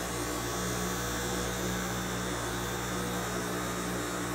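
Electric hair clipper fitted with a 1.5 guard, lever set high, running steadily and loud from start to finish during a faded barbershop haircut, a constant electric hum with no speech.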